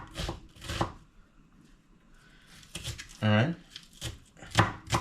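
Onions being chopped with a knife on a board in a home kitchen, a few brief choppy strikes heard close up between bursts of casual talk.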